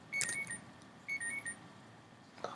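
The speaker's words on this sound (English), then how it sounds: "It's just my alarm going off for today." An alarm goes off in two quick bursts of bright electronic beeping, fairly faint against a quiet room, with a brief clatter at the end.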